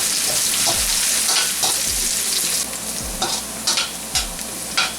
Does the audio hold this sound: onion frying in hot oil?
yes